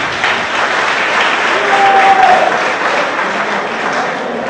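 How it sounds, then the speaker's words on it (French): Loud, sustained applause from a large crowd at a youth political rally in Godomey, Benin, forming a dense, continuous clapping wash that swells slightly midway. "Applaudissez pour vous-même."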